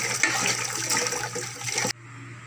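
Running water rinsing herbs clean, a loud continuous splashing gush that cuts off abruptly near the end, leaving a quieter background hiss.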